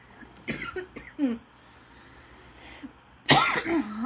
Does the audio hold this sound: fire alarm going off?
no